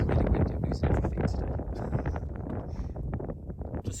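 Strong wind buffeting the microphone in a continuous rough roar during a spring barley harvest in a field, with faint rustling underneath.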